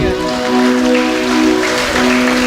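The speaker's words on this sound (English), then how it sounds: "Let's get a round of applause once again." Audience applause at a Tobago Hindu Society Indian Arrival Day celebration in Lowland Mall: steady, dense clapping from a crowd, with a sustained tonal hum running beneath it throughout.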